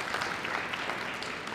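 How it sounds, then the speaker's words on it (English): Brief burst of crowd clapping and cheering at a men's pro doubles pickleball match, steady and fairly close for a second or two. "And that'll get an ovation out of the crowd."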